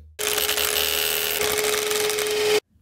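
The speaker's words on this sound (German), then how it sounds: "weswegen ich jetzt halt einmal ein Loch mit 85 mm Tiefe und dieses Mal aber mit einem Durchmesser von 12 mm bohren werde" A power drill bores a 12 mm hole 85 mm deep into concrete or masonry wall, one loud continuous whining grind of about two and a half seconds, close up, starting and stopping abruptly.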